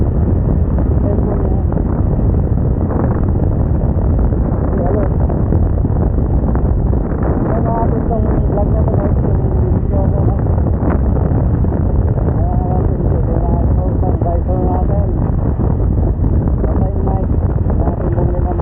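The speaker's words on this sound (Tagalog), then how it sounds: "ingay ng hangin" Constant wind rumble across the microphone on a ride through traffic, with a faint voice talking underneath throughout.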